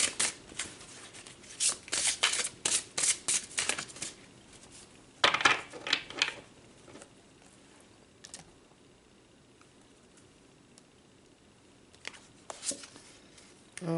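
Tarot cards are shuffled in quick close riffles and soft slaps in bursts at the start and midway, then faint card handling in a quiet room.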